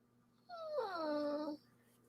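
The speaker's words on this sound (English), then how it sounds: "That was my dog." A dog whimpers once in a drawn-out, wavering whine of about a second, close and fairly clear against a quiet room hum, with no talk over it.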